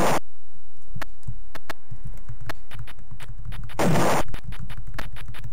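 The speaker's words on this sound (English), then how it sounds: "This is the shooting sound." Shooting effects from the Harlequin video game play with the music off: a quick run of sharp clicking shots, close and fairly loud, with one longer noisy blast partway through.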